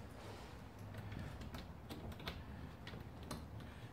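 Stiff keys click and scrape in the lock of a Keter high-store plastic shed cabinet, a series of quiet, irregular ticks over a low background hum.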